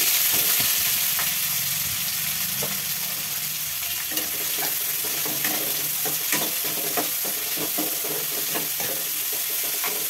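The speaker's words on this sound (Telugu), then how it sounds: "నూనె తగినంత నూనె పోస్తున్నా. ఉల్లిపాయలు పచ్చిమిరపకాయలు వేసుకుంటున్నా" Onions and green chillies frying in oil in a pan for an Andhra-style omelette curry, with a loud continuous sizzle and repeated spoon stirring and scraping, close up, no voices.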